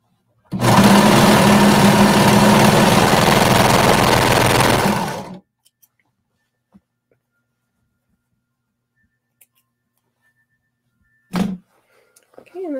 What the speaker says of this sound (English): we're just going to sew around that peekaboo curve